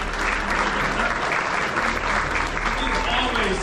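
An audience claps steadily for the full stretch in a hall, dense loud applause with scattered cheering, honoring a guest speaker called the queen at a college scholarship talk.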